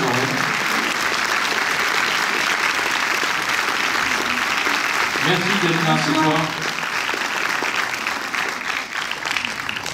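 A premiere audience applauds a director with dense, sustained clapping filling the cinema, while someone speaks over it near the end.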